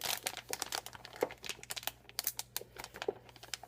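Plastic zipper bag holding chicken breasts marinating in barbecue sauce, its slider crinkling and crackling in a quick run of small, close, sharp clicks with no talk.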